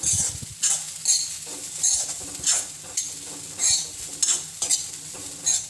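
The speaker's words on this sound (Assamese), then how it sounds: "ভালকৈ ভাজি লৈছোঁ" Food sizzles in a hot pan while a spoon scrapes and stirs in repeated strokes, roughly once a second, close by.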